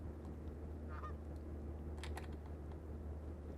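Geese give a few short nasal honks in the video game Thirty Flights of Loving, brief calls near the start and middle over a steady low hum, fairly faint with no talking.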